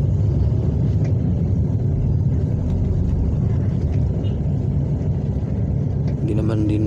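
Continuous low traffic rumble and engine drone heard from inside a vehicle in congested Manila road traffic on the way from Santa Rosa, Laguna to Makati City, steady throughout with a brief brighter noise near the end.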